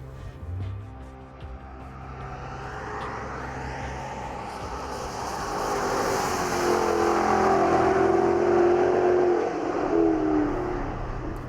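A Jaguar XKR-S, the brand's most track-focused car, laps the Portimao circuit, its engine note building from a low hum to a sustained, louder revving drone that rises in pitch as it accelerates, with no talk.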